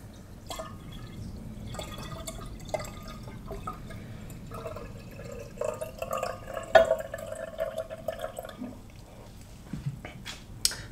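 Boiled, cooled water trickles and drips into a wine demijohn being topped up, a steady liquid fill with scattered drips, fairly quiet and close, with no talking.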